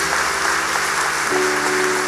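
A church congregation applauds, a dense and steady wash of clapping that holds at even loudness from start to finish with no voices above it.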